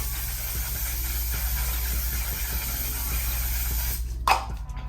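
Makeup setting spray gives a short, sharp spritz near the end, heard over a steady low background hum.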